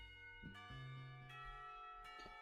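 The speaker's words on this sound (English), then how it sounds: "Not a minute too soon, the lunch bell rings." A school lunch bell in the visual novel game Katawa Shoujo rings in steady, sustained chime tones, with several struck notes layered over a quiet ringing background, faint and alone.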